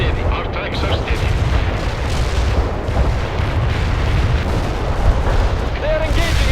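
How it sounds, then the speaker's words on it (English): Enemy fire in the World in Conflict strategy game: continuous loud booming artillery and rumbling gunfire, a dense unbroken barrage close up, with radio-style voices mixed in. "Enemy is firing."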